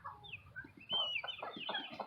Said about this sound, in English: Let me see your baby chickens.